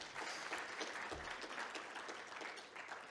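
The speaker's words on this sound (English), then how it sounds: "Please, a round of applause." Applause at a network operators' meeting, a steady dense patter of many hands clapping at moderate level throughout, without pause.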